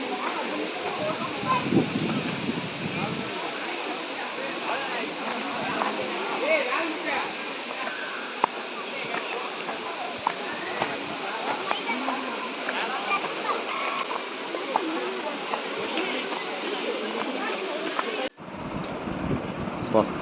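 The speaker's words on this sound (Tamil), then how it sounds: "அருவிக்கு வந்தாச்சு." Rushing water of the Muttal waterfall pours in a steady, loud roar that fills the whole stretch, with wind buffeting the microphone and people talking over it; the sound cuts briefly near the end before resuming.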